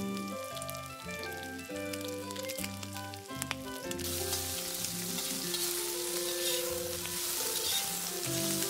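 Paneer chilli fries in a pan with soy sauce and vinegar, giving a steady, moderately loud sizzle that grows denser and hissier partway through, with no talking.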